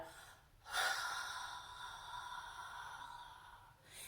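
One long, audible breath pushed out during exercise: a close, breathy exhale that starts abruptly and holds steady for about three seconds before fading.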